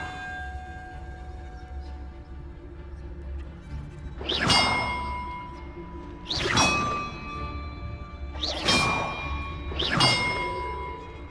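Four loud metallic bell strikes ring out at roughly two-second intervals in Hogwarts Legacy, each with a bright clang and a lingering shimmering decay over a low ambient game drone.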